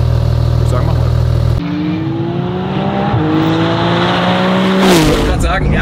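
A tuned 850-horsepower Porsche GT2 RS pulls away, its engine rising steadily through the revs under a loud low rumble, with a gear change and a sharper burst near the end.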